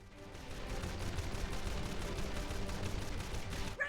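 Rapid video game gunfire blasting sky pirate aircraft out of the sky, a dense continuous barrage of shots held at steady loudness for several seconds with no talking.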